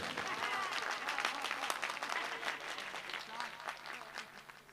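An audience at a mushaira poetry recital claps steadily, a dense, even wash of applause from a modest crowd that holds at a similar level before easing slightly.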